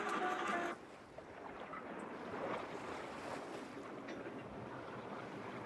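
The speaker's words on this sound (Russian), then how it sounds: "Волны. Одни волны кругом." Open sea surges and washes around a ship, a loud rushing swell mixed with wind that eases after a heavier opening burst and then holds steady, with no speech.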